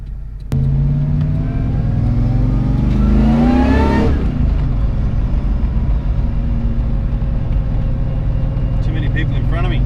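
A Holden VH SL/E ute's engine pulls hard from inside the cabin, its note climbing steadily through a rev before dropping back to a constant loud drone in rush-hour traffic.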